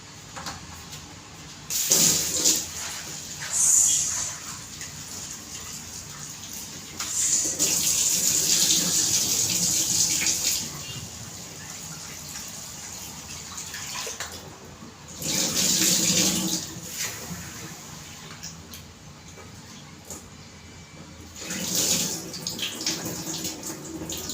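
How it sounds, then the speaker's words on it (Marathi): A kitchen tap runs in several bursts while flattened rice (poha) is rinsed twice in a bowl, water splashing and gushing between quieter pauses. "ते आता दोन वेळेला धुवून घेते दोन मिनटात मी धुवून आणते"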